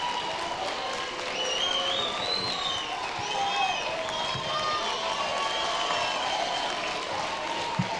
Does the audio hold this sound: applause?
yes